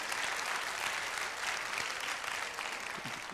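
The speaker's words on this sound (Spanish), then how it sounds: "Dense un aplauso de bienvenida unos a otros" Church congregation applauding one another in welcome, a continuous, full roomful of clapping that holds steady throughout.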